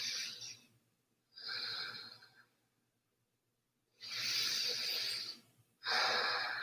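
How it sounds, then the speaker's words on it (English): Slow, deep breathing during a gentle yoga flow held in plank pose: soft, airy inhales and exhales in an unhurried rhythm, close and quiet, with a brief pause between breaths. "Take a few breaths here."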